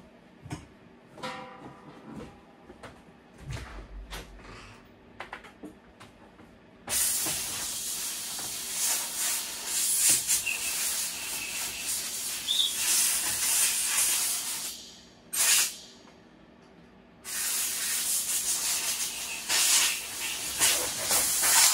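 Compressed air blasting off parts of a Husqvarna 395XP chainsaw during teardown: after some light clatter, a loud steady hiss runs about eight seconds, stops briefly, then returns.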